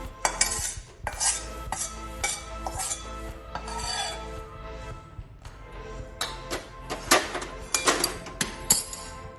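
Repeated metallic clinks and scrapes of a spoon mixing flour with dry fruits and edible gum in a pan, in uneven bursts with short pauses between.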